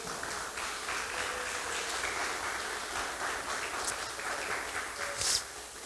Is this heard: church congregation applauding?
yes